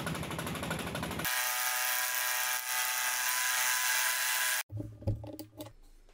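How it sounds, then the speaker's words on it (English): A face mill roughs a tall metal plate clamped against a fixed vise jaw, giving a loud, steady, bright cutting whine that starts abruptly after a rougher whir and stops suddenly, followed by a few faint clicks and taps. "So while roughing here, I have the face mill on center, and by feeding in the direction shown, the plate is rigidly pressed against the fixed jaw."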